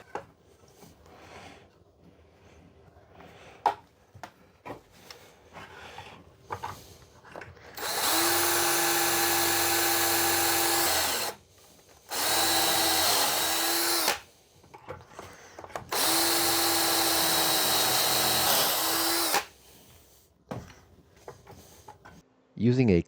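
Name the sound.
drill making pocket holes with a pocket hole jig in wood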